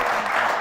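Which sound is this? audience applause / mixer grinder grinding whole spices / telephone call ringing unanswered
audience applause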